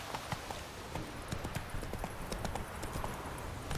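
Hooves of the horse Roach clip-clopping steadily in The Witcher 3, a continuous fairly close trot of even beats over faint ambient background.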